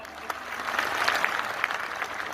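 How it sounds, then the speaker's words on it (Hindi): An audience at an indoor company meeting claps enthusiastically, a dense, steady burst of applause lasting a couple of seconds, fairly close and full. "एक बार जोरदार ताली"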